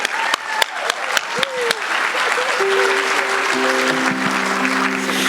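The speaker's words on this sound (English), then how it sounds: "How about a round of applause for this brilliant young lady?" Applause for a young spelling bee winner at a scholars awards banquet begins with a few scattered claps, then swells into a dense, steady ovation, with sustained tones rising beneath it near the end.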